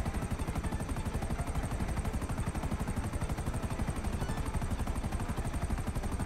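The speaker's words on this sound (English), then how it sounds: "Is that helicopter behind us, yo?" A Grand Theft Auto V police helicopter chases overhead, its rotor throbbing in a fast, even, relentless beat that stays loud and close for the entire stretch.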